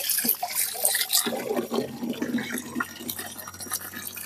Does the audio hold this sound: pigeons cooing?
no